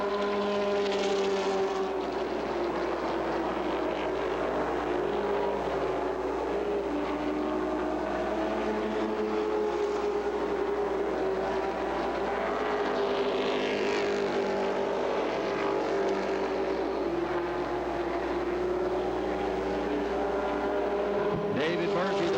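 Late model stock cars race at Peach State Speedway in Jefferson, Georgia, with a loud, continuous engine roar as the pack runs hard into a corner. A track announcer talks over the engines.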